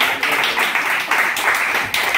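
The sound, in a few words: people applauding at a birthday celebration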